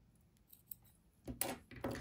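Scissors snip crochet yarn at close range, a few sharp metallic cuts coming near the end after a quiet start.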